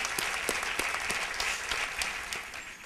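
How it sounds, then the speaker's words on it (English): Sustained audience applause at a university convocation, greeting the outgoing and incoming chairmen; dense, even clapping from a large crowd with a few sharper claps standing out, continuing throughout. "please give them a big applause"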